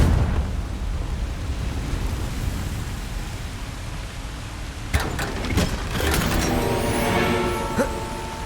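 The Confringo fire spell in Hogwarts Legacy, a PS5 game: a steady roar of broadband noise gives way to sharp crackling blasts and a rumbling fiery explosion that fades with rough, scattered crackle.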